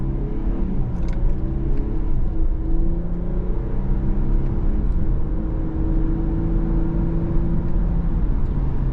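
A 2024 Infiniti Q50 Red Sport 400 in Sport Plus accelerates hard under manual paddle shifts, a steady loud engine drone rising in pitch through several gears, heard from inside the cabin.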